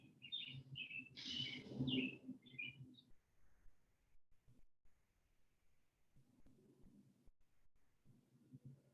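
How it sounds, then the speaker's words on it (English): Several short bird chirps and tweets in the first few seconds, fairly close, over a low background rumble; then only faint ambient noise. "Maybe you can hear the birds chirping in my background"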